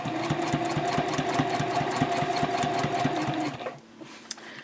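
A sewing machine stitches slowly around the curve of a zipper pouch, its rapid, even needle clatter running close and steady before stopping near the end, followed by a few faint handling sounds.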